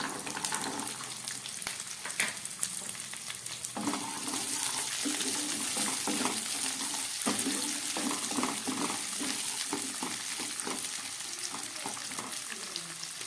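Mixed vegetables and green peas fry in a pan for a Bengali khichuri and cabbage meal, giving a steady close sizzle broken by repeated scraping and clinking stirs.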